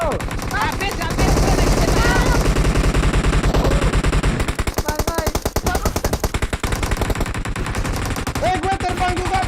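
Video game gunfire: dense, loud bursts of rapid machine-gun shots, nearly continuous throughout, with voices and game sounds mixed in underneath.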